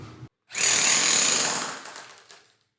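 A jackhammer breaks through the floor of a renovated house to find a water leak; one short knock is followed by a loud, close burst of hammering that lasts about two seconds and then fades.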